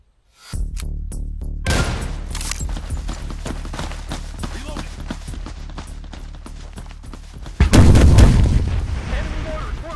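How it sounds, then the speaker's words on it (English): Enemy mortar and artillery fire in the shooter game Hired Ops booms repeatedly, loud and close, with a rapid string of blasts followed by a heavy, rumbling explosion near the end, and voices talk underneath. "Enemy mortars working."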